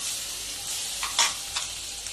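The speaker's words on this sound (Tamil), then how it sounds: "முந்திரி லைட்டாக ஃப்ரை ஆகிடும், சீக்கிரமாக ஃப்ரை ஆகிடும்" Cashews and grated coconut frying in hot oil for South Indian coconut rice give a steady broadband sizzle with a few brief stirring scrapes, close and alone with no voices.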